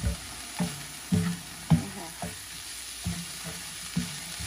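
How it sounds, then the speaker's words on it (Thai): Shrimp sizzle in oil in a hot pan with repeated stir-frying scrapes at a steady rhythm, several distinct clacks and hisses close up, no voices. "เราจะคั่วกุ้งนะคะ"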